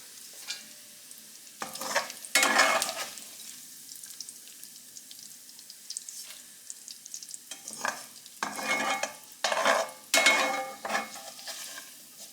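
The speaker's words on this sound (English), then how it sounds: "I'm going to saute the onion in a leftover" Chopped onion sautéing in leftover bacon and sausage fat, with bursts of loud sizzle and stirring scrapes in the pan, close up and coming in waves.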